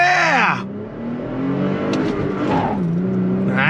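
A 2022 Toyota Tacoma TRD Pro with a naturally aspirated engine and six-speed manual pulls hard on a side road, its engine note climbing steadily in pitch and holding a loud, close, continuous drone.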